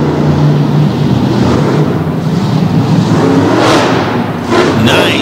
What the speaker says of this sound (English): Nice hit right there off the back of the racing lane.